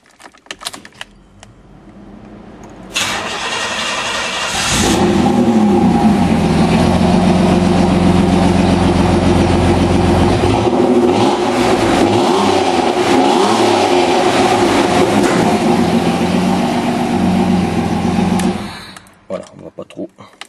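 Ferrari F355 replica engine cranking and firing inside a garage, then holding a loud steady rumble with blips of revving for about fifteen seconds before cutting off, someone speaking briefly near the start.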